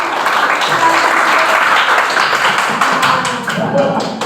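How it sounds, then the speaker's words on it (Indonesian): Classroom applause after a children's counting song: a few seconds of dense, steady clapping from a room of students, close and fairly loud, with a teacher's voice briefly audible. "tepuk tangan dulu"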